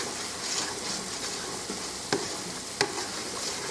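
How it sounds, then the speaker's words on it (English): Shredded cheese melting in a pan over a faint, even sizzle, with a couple of sharp clicks and scrapes as a utensil stirs it. "as soon as I get it added, I'm going to start stirring it a little bit"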